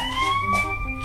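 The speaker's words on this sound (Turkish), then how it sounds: "Doktor Ayşe, ambulans geldi." Toy ambulance siren wails in a steady, close electronic tone, its pitch sliding slowly upward through about a second, with soft background noise and no talk.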